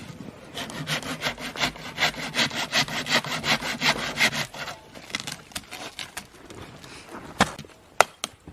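Hand saw cutting through dead tree wood for firewood at a forest campsite, a steady run of rhythmic back-and-forth strokes that then gives way to scattered knocks and snaps of handled wood.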